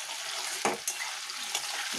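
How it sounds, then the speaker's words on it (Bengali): Potato pieces fry in oil while a spatula stirs them, so a continuous close sizzle is broken by a few brief scraping strokes against the pan. "দেখো আলুটা কিন্তু লাল লাল করে ভাজা হয়ে গেছে।"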